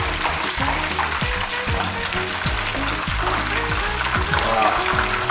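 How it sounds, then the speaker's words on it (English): Battered fish deep frying in hot oil for a Cantonese crispy fish recipe, a steady loud sizzle and bubbling crackle that holds constant throughout, close up, with a faint voice under it. "my fish has been cooking about 6 to 7 minutes"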